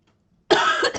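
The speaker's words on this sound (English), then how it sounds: "Excuse me, I do have a cough." A single short, forceful cough bursts out close to the microphone after half a second of silence.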